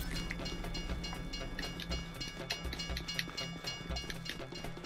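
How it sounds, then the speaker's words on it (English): An approaching train in a video game, a steady rumbling rail clatter with rhythmic low thumps like wheels over joints, continuous and fairly loud with no talk over it. "What is it, like another train coming?"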